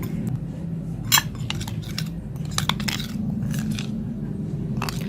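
Spoon clinking and scraping in a bowl while stirring rice flour and rose water into a smooth paste, with irregular light metallic taps over a steady low background hum.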